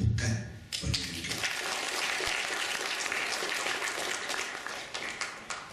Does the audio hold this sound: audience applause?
yes